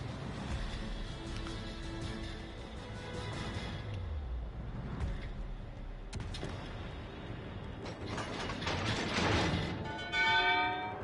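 Warship gun turrets grind and whir as they swing around in World of Warships Legends, a continuous mechanical rumble with ratcheting tones that grows louder and busier toward the end.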